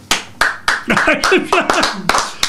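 Several sharp claps in an irregular sequence, close and fairly loud, with a voice speaking between and under them.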